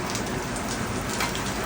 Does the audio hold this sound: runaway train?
no